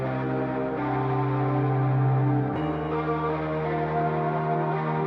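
Layered guitars and a synthesizer from an alternative rock track hold a thick, sustained wall of chords that shifts to a new chord midway, steady and loud with no talking.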